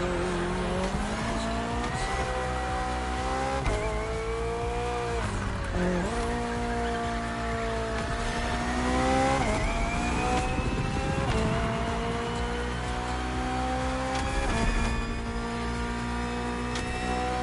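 BMW hybrid V8 race car in the Motorfest video game, a loud high-revving engine note that climbs and drops sharply through repeated gear changes, with tire squeal mixed in.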